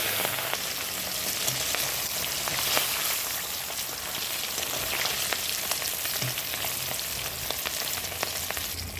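Tangra fish frying hard in mustard oil, a steady dense hiss of crackling sizzle with sharp spits popping through it throughout, close and loud, with no voices.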